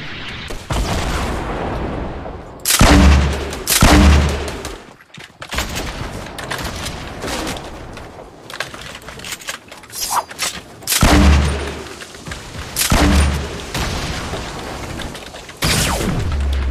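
Grenade blasts and gunfire in the battle royale game Fortnite: several loud booming explosions arrive in separate bursts between stretches of rattling gunshots, close and dominant throughout.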